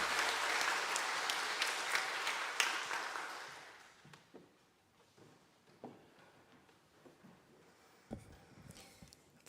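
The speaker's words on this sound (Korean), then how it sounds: "귀한 소감을 발표해준 김다현, 박찬홍 청년에게 다시 한번 박수 부탁드립니다" A church congregation at a Sunday afternoon service applauds, loud sustained clapping for about four seconds that fades into scattered claps and quiet room noise.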